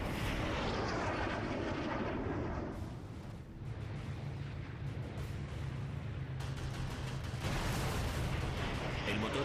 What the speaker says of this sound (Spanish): Los potentes cañones de Schubert disparan contra otra fortaleza.